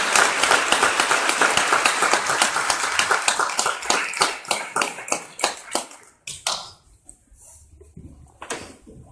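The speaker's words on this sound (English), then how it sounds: "Give him a big round of applause, y'all." Audience applause for a pastor stepping up to speak at an evening gathering, a loud dense burst of clapping that thins into scattered individual claps and fades out over the last few seconds.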